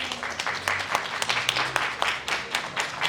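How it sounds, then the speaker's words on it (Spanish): An audience at a book presentation applauds the author, a steady, moderately loud patter of many hands with faint voices underneath. "Fuerte el aplauso para él."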